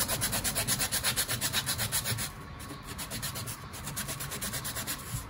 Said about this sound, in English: sand them to make their top smooth and even